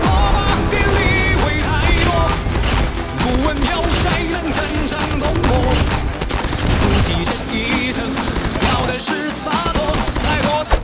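Dense, continuous gunfire and explosive bombing in the mobile shooter Call of Duty Mobile during a ranked match, loud and unbroken throughout, with rapid bursts layered over booming blasts and a faint voice underneath.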